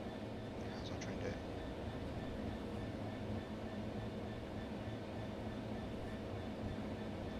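A freight train of 16 aggregate hoppers rumbles steadily in the Train Sim World video game, a continuous low drone with rail noise throughout and no pauses.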